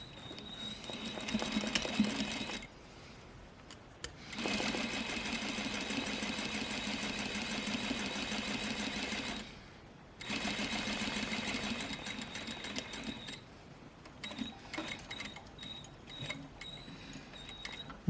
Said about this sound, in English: I'm going to sew right on top of that seam line all the way up to the point